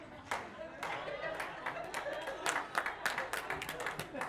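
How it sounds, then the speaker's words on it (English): Audience clapping in a small comedy club after a punchline, a steady patter of applause from a modest crowd. "A clap break on the dumbest joke I have."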